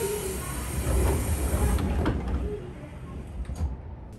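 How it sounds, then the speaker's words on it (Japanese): Train pulling out of Moji station on the Kagoshima Main Line, a low rumbling drive and rolling noise with a few sharp clunks and rattles, the sound thinning and easing toward the end. "列車は門司を発車。"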